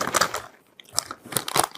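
Crunchy chocolate-coated Japanese corn puff snacks being chewed up close, with several loud crisp crunching bursts separated by a brief quiet pause.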